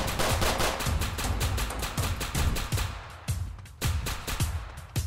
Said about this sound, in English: I'm hearing all these damn gunshots, but it ain't nobody.